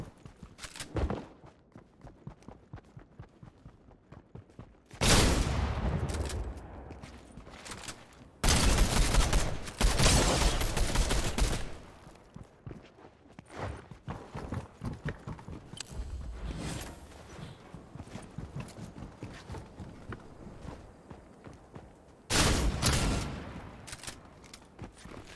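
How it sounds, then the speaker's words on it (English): Rapid bursts of gunfire from a fast-shooting weapon in the video game Fortnite, several loud clusters separated by quieter stretches of footsteps and game ambience. "This thing shoots fast"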